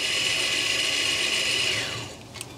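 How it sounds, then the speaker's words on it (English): An electronic parking brake caliper motor, powered straight from battery leads, whirs with a steady high-pitched electric whine for about two seconds, then winds down and falls quiet, close and loud. "we're just gonna put our leads on the battery here. And just let that motor run for a few seconds"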